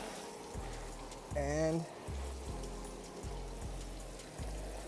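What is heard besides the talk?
rinsing car with water spray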